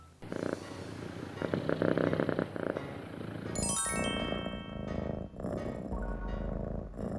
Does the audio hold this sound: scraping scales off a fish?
no